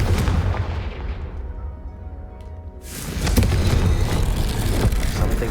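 Booming explosions from a Confringo spell in a video game crash out in dense bursts, a heavy blast rumble that fades briefly before another loud eruption.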